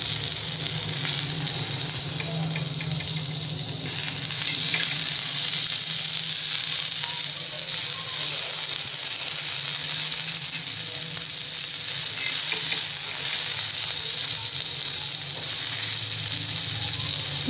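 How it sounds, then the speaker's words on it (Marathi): Tomatoes and chilies roasting in a hot pan, a close, continuous sizzle and crackle with occasional stirring scrapes and no talking. "टमॅटो बरोबर मिरची बरोबर टमॅटो पण भाजून घेणार आहे छान"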